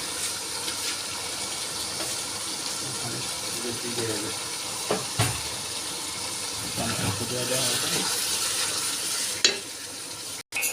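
Water is poured into a cooking pot of beef that is sticking at the bottom, a steady hissing sizzle and bubbling with stirring clatter, while a person talks over it.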